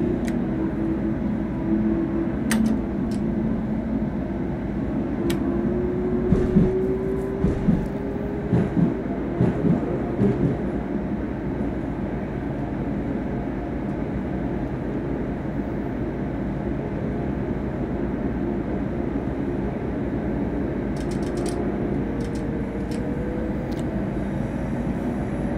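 A train in Train Simulator Classic runs along the Berlin Ring toward Prenzlauer Allee with a steady rumbling drone, wheel noise and faint rising motor whine, and a few brief clanks and squeals over the continuous hum.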